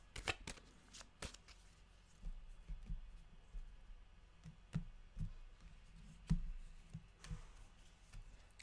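Cards shuffled by hand for a monthly numerology and astrology reading, heard as a faint run of soft, irregular riffling taps and flicks, close by, with no one talking.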